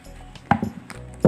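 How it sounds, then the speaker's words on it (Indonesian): A knife cuts through overripe starfruit on a cutting board, giving three or four soft, wet chops spaced unevenly against a quiet background. "buah belimbing diiris dengan ukuran sedang agar mudah diperas"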